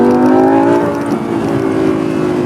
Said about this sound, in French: Et écoutez-moi cette sonorité, ce V10, franchement il est fabuleux.